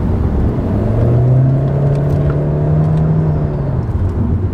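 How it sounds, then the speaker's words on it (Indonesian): A 2017 Honda Civic Turbo ES Prestige with CVT transmission accelerating, a loud, steady engine drone rising smoothly in pitch over a few seconds, heard close from inside the car with no talking. "inilah karakter mesin besar dengan transmisi CVT ya, seperti ini"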